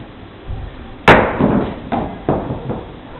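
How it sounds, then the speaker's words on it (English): Rocks dropped onto the ground, heard as one sharp, loud impact followed by several softer knocks and thuds spaced irregularly over a few seconds, close by with no talking. "hearing them drop to the ground"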